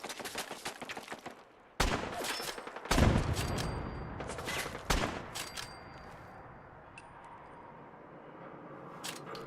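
Automated turret fire in the video game Fallout 4: loud rapid gunfire bursts and sharp single shots, followed by fading echoes and faint mechanical clicks.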